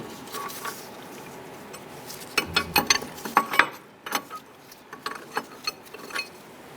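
A hand ratchet works loose the bolts holding the shock unit to the steering knuckle on a 1994-2004 Ford Mustang front strut, giving bursts of quick metallic clicking with faint knocks between them, close and fairly quiet.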